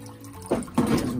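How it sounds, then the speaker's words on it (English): A pump runs water into yabby tanks, giving a faint trickle that rises into two short splashing pours of water close by, with no talking. "I've just got a pump that comes up along the back here, along the back, and runs into each one"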